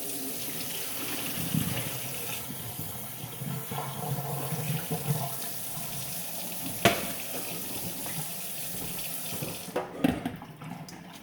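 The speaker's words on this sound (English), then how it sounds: "Be sure to run your water cold before you dump this in your sink." Cold tap water runs steadily into a kitchen sink while cooked linguine noodles are drained for a chicken casserole, a continuous splashing stream with a few clunks and a brief louder burst near the end.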